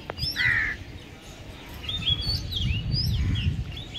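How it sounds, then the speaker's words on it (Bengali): Several birds call at sunset outdoors: short whistled chirps and sweeping notes scattered over a few seconds, moderately near, with a crow-like call among them over low background rumble. "আর পাখিরা ডাকছে, এই যে এই পাখিটা ডাকছে"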